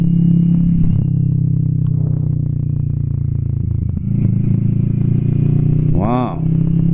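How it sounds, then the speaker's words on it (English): A Kawasaki Vulcan S 650 Cafe cruiser motorcycle runs with a steady, loud, low exhaust drone at close range, with a brief rising rev near the end. "Wow, okay, that exhaust is really nice. A little loud,"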